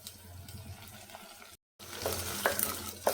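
Onions sauté in a pan for a South Indian sambar, giving a steady moderate sizzle with soft stirring scrapes, broken by a brief silent gap and then a louder, brighter frying hiss.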